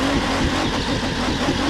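A Nissan Skyline R34 GT-R in The Crew 2 racing game roars loudly with a steady, close engine drone through a quick J-turn, revving under a gritty broadband rush.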